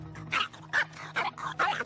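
A dog barks at another off-leash dog outdoors, letting out about five short, sharp barks and yips in quick, uneven bursts, loud and near.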